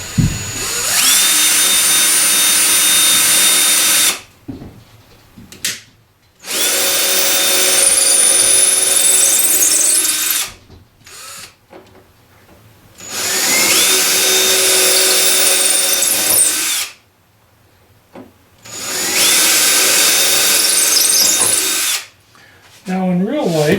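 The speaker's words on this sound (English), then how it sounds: "I'm going to remove some of this rock by drilling." A power drill bores into hardened plaster rock on a model railroad mountain, running in four long, loud bursts of steady whine with short pauses between them.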